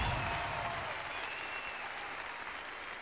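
A large festival crowd applauds loudly at a concert at the 2005 Viña del Mar festival, a dense, steady wash of clapping that fades slightly over three seconds.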